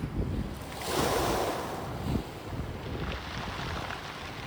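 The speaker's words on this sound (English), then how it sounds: "this is the sound you hear with stones rolling into the sea or taken back by the wave." Waves washing over a stony beach on the Cape Agulhas coast, stones rolling and being dragged back by the receding surf, a continuous close, rushing wash with a swell around the middle, mixed with wind noise on the microphone.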